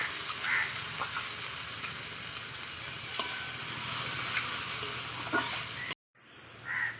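Ginger-garlic paste and dried red chili paste sizzle and fry steadily in a pan, a continuous close hiss that breaks off near the end before a short faint return.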